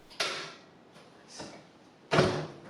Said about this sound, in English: this time the door unlocked.